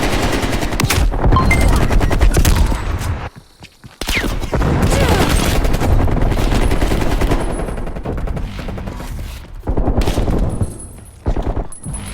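Hostile sentry turret gunfire in a Call of Duty hardpoint match, loud rapid automatic bursts with brief pauses and near-silent gaps, set among other game noise.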